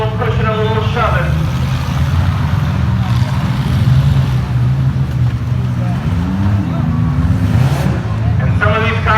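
Engines rumble continuously as battered demolition derby cars push and shove in a fair arena, with a crowd murmuring and a voice talking over the din.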